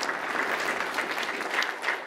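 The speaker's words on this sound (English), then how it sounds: "How about we get a big round of applause, loud and sustained" An audience claps in sustained, loud applause at a community tech event, a dense unbroken wash of hands with no voices standing out.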